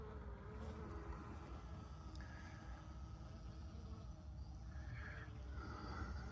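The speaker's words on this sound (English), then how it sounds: "Oh, look at these bees." Honeybees around a hive entrance on a hot day, a faint, continuous low buzzing hum with occasional nearer passes, steady and soft throughout.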